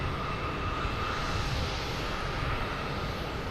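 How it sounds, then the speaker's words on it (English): A Southwest Boeing 737 from Denver comes in to land at Boston Logan, heard as a steady, broad jet engine roar that holds even and fairly loud throughout, with no voices. "we have a Southwest coming in from Denver."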